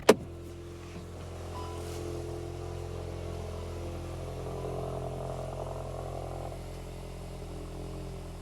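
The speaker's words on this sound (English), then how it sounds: "Let's listen to the idle from outside the car now." A 2024 VW Golf GTI 380 with a manual gearbox and a turbocharged four-cylinder idles after a cold start, recorded from outside the car: a short click at the start, then a steady, low, smooth hum that stays even throughout.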